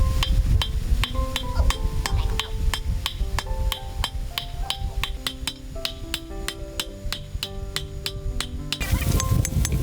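Rapid, steady hammer blows ring out on cast iron being forged into a knife, each strike sharp and bright, continuing in an even rhythm for several seconds at close range.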